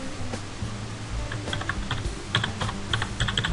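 Steady typing on a computer keyboard, quick irregular clicks of keys close by, fairly quiet over a low background hum, with no talking.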